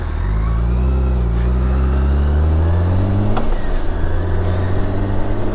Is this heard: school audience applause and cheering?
no